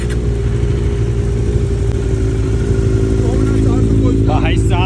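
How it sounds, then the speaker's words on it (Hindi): A large engine idling roughly and revving after a cold start, loud and steady throughout with a low rumbling drone, while people talk over it. "कोल्ड स्टार्ट सबसे बड़ा इंजन तो यही है।"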